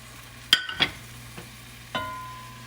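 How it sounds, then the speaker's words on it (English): Milk is added to risotto rice in a hot pan, bringing a couple of sharp knocks and a splash followed by a gentle sizzle and stir, close and quiet, with no talking. "we'll start to add our milk in. About 3/4 cup at a time, and it'll begin to absorb into the rice"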